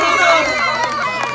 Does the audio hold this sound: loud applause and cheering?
yes